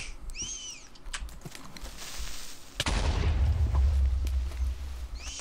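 Gunfire in the Minecraft Feed The Beast modpack: one sharp crack, then a rumbling, booming burst that fills the second half, with a few faint electronic chirps earlier.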